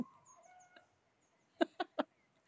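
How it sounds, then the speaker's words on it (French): Several short clucking calls from hens and roosters, fairly close, in a quick burst of three or four after a faint, quieter stretch; no talking. "on entend les poules, les coqs."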